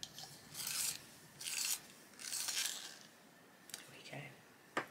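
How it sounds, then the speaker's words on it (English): A colouring pencil is sharpened in quiet, close scraping bursts, four or five short gritty rasps separated by brief pauses, faint overall. "Right, so this one I'm just going to sharpen."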